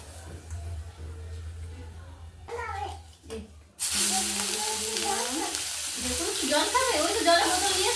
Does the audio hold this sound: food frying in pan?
yes